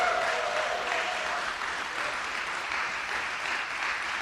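An audience applauds steadily at a governor's press conference announcing a lawsuit, a sustained wash of clapping with no speech over it.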